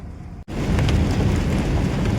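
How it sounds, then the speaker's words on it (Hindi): Heavy rain pounds a moving truck on a highway in India as a dense, loud, continuous roar. A brief cut near the start drops into a steady downpour with no talking. "बारिश हो गई है बहुत तेज"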